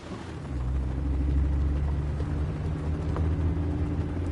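Helicopter approaching in the video game 007 First Light, a steady low rotor and engine rumble that swells in after half a second and holds loud and constant.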